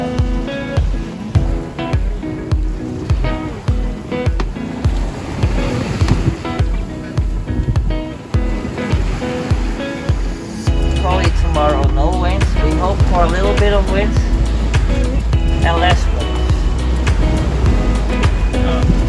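Heavy rolling waves left over from the Mistral slosh and crash against a boat hull at sea, with rhythmic surges and a constant engine-like rumble, loud and close throughout.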